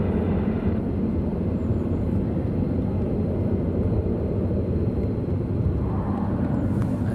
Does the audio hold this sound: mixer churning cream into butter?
no